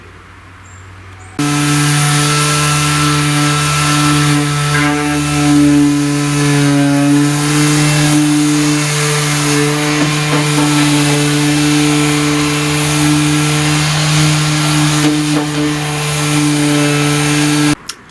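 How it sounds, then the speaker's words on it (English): A power drill runs loud and steady for about sixteen seconds, driving screws into a wooden shelf inside a garden shed, its motor a constant whining drone that starts abruptly and cuts off at the end. "they'll be drilled up through to screw the actual shelf"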